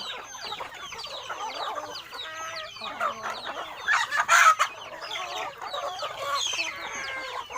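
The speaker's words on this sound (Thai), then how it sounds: "ทั้งลูกไก่แม่ไก่ไก่วัยรุ่น" A flock of roughly two hundred village chickens (chicks, hens and young birds) clucks and chatters continuously, with a rooster crowing loudly near the middle, all fairly close.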